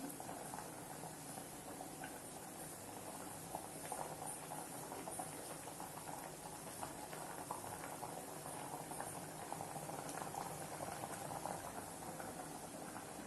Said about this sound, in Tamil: பாருங்க குழம்பு நல்லா கொதிக்குது.